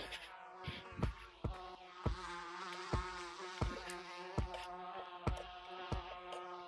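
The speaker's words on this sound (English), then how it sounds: "you can actually escape the map with the bees" Bees buzz steadily in the Gorilla Tag video game, a continuous droning hum with a regular, pulsing beat of low thumps running beneath it, fairly quiet and even throughout.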